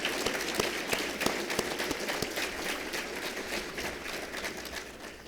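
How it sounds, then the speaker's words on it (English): Audience at a roundtable luncheon applauds, a moderate round of clapping from a roomful of people that stays steady before tapering slightly at the end. "let's give Dan and everybody here today a round of applause"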